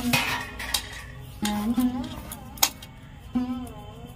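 A cover is lifted off fenugreek-leaf paratha dough that has rested for ten minutes, giving a few sharp metallic clinks and clatters close up, with brief talking in between.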